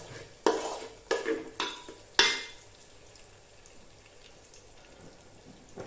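Sliced onion fries in a pan as a utensil stirs it, giving four sharp scraping strokes over a soft sizzle that carries on quietly after the stirring stops.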